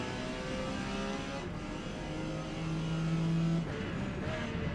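A Porsche P-class race car in Forza Motorsport roars along a back straight at Grand Oak Raceway, its engine a loud, steady, close drone with rising tones as it gains speed.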